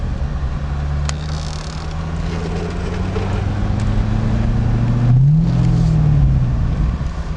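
A 2005 Chevrolet Corvette Z51 in Millenium Yellow rumbles steadily while driving on a road, its engine note rising gently and then easing, loud and close throughout.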